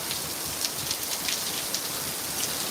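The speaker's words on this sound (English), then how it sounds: "look at all this rain, chat." Heavy rain pours down on a parking lot, a steady, dense hiss of drops hitting pavement and nearby surfaces with occasional louder spatters, continuous and unbroken with no voices.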